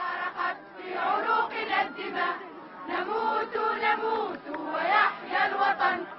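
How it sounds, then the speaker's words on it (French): A large crowd lining a funeral procession in Monastir sings the national anthem together, swelling and fading in sustained phrases, loud and close, with no other voices on top. "Une clameur monte de la foule qui entonne l'hymne national."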